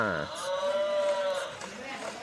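A battery-powered toy cow lets out one drawn-out electronic moo, close and clear, with faint mechanical whirring around it.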